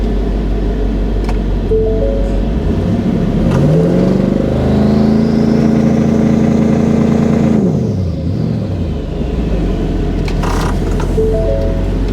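A drag car engine held on the trans brake with boost climbs in a steady loud rev, rising in pitch and holding before dropping back to a rough idle, close and continuous.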